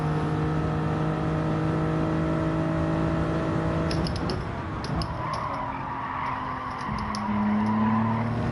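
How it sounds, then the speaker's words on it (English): Car tires skidding and squealing in Gran Turismo 7 racing, with steady engine drone and a smeared tire screech after a few seconds, continuous and fairly loud. "skidding going on in the background"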